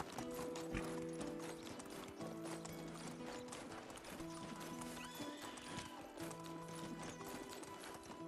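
Horse hoofbeats clip-clop at a steady riding pace in the medieval survival game Medieval Dynasty, with an occasional whinny and creaking tack over a constant background bed of game music and ambience.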